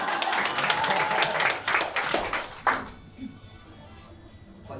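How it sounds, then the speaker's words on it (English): Audience applause at a comedy and magic show during the FRINGE WORLD festival 2020, a short burst of clapping that quickly fades out within a few seconds. "That was a very short applause."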